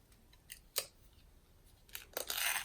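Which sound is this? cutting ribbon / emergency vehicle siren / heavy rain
cutting ribbon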